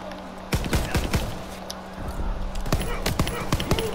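PPSh submachine gun in the Call of Duty WWII video game, with sharp shots firing in quick irregular bursts under ongoing game noise and a player's voice talking.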